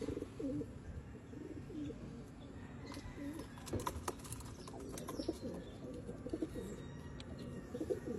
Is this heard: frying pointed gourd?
no